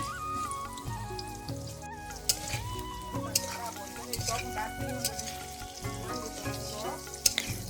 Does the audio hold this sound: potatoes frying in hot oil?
yes